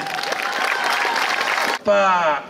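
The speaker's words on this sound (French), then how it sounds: "Je voudrais que vous le fassiez un gros applaudissement aussi." Audience applause at a youth gathering in Bouaké, a sustained round of clapping that cuts off abruptly as a voice takes over.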